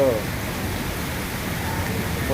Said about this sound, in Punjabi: ਅੱਜ ਫੇਰ ਰੁੜਕਾ ਦੇ ਵਿੱਚ ਜਿਹੜਾ ਆ ਮੀਂਹ ਜਿਹੜਾ ਕਾਫੀ ਤੇਜ਼ ਪੈ ਰਿਹਾ